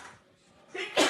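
A single person sneezes, a quick breathy intake followed by a sharp, loud burst at the close, heard near and alone.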